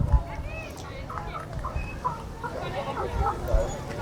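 Hens and turkeys at a Plopsaland De Panne farm enclosure cluck and gobble in scattered short bursts close by, mixed with people talking nearby.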